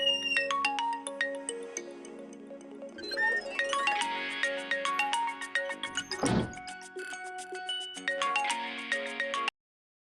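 A mobile phone ringtone plays a bright, melodic electronic tune that repeats loudly for about nine seconds, with a brief thump midway. It then stops abruptly, and no one speaks.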